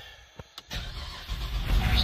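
A Cadillac STS engine cranks in a couple of short bursts, then catches and settles into a steady rumbling idle, fairly close and alone, inside a garage.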